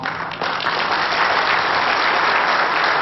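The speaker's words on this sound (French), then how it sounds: "Je vous demande un grand applaudissement" A crowd at a pétanque masters tournament in Madagascar applauds in tribute, a full, loud, sustained burst of clapping that fills the whole moment.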